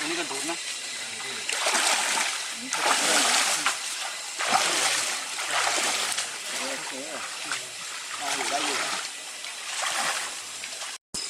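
People wade and splash through a slippery mud pool, making repeated churning splashes in uneven bursts while voices talk and call out over the sloshing.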